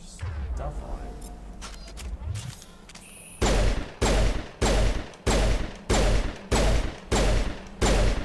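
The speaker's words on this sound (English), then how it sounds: "Kinda wanna try out my new pistol though with my extra stuff on it" Pistol shots in the Mass Effect video game, seven loud, evenly spaced bursts in a steady rhythm, preceded by quieter game noise and movement.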